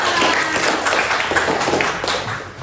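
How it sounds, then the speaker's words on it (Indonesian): A class claps together at the end of a lesson, a dense, lively burst of hand clapping lasting a couple of seconds and fading slightly toward the end. "Tepuk tangan untuk semuanya."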